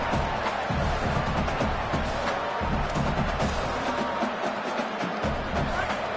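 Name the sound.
stadium crowd cheering at college football game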